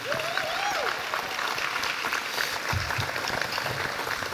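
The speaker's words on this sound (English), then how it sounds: "how about another round of applause for Jory?" An audience at an astronaut reunion dinner applauds with dense, even clapping that stays steady throughout, and a brief whistle rises near the start.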